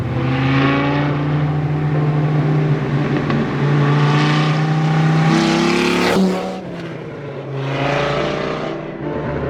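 An RX7 with a swapped-in 8.3 liter Viper V10 runs loud and close with a deep, steady engine drone, then rises into revs and drops off sharply near the six-second mark before building again.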